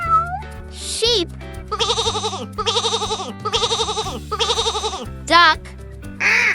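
A sheep bleats four times in a row, each call wavering and nasal, loud and close over cheerful background music with short squeaky effects at the start and end.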